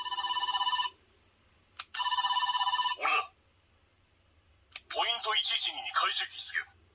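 The Dekaranger SP License Memorial Edition toy in phone mode gives two bursts of electronic ringing, each about a second long. Brief clicks come in between, then a voice speaks with a sound effect from the toy.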